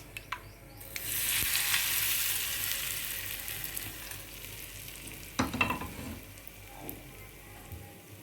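Coconut chutney goes into a pan of fried tempering, raising a sudden burst of sizzling that slowly settles. Stirring then scrapes and clatters against the pan midway through, and a faint sizzle lingers to the end.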